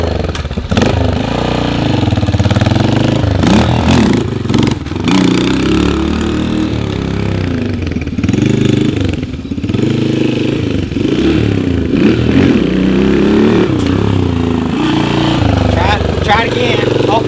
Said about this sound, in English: I'm going to practice a couple of wheelies